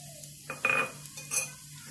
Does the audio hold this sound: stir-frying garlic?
yes